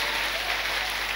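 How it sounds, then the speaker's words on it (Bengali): A congregation at a Bengali sermon claps hands together in a dense, steady burst of applause filling the space for a moment. "যদি আপনি সত্যি আশীর্বাদ পেয়েছেন তারাই হাততালি দেবেন"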